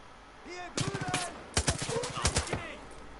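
Gunfire in the shooter Far Cry 5 comes as several bursts of rapid automatic shots, sharp and fairly close, with a few single cracks in between and game sounds underneath.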